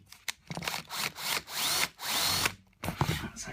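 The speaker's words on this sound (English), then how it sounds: "I'm just setting the screws in a little bit, just so they don't stick out." Power drill driving screws into wood, several short loud bursts of whirring with brief pauses between them, close up and without talk.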